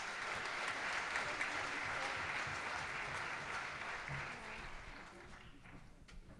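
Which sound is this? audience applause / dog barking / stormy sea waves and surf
audience applause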